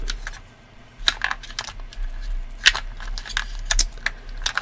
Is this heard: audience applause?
no